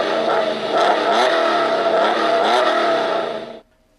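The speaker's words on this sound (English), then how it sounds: "He opens the door, gets in, and starts up the engine of his brand new Batmobile." A Batmobile's powerful engine fires up and revs hard, loud and close, its pitch wavering through several throttle blips before cutting off abruptly into silence.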